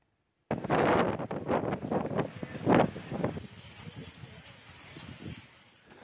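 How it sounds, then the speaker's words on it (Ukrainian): Strong gusting wind from Cyclone Gaja battering the coast of Tamil Nadu in southern India, a loud broadband roar that bursts in suddenly, surges in gusts, then eases off slightly toward the end. "Вітер зі швидкістю під 100 кілометрів за годину ламав дерева та рвав дроти."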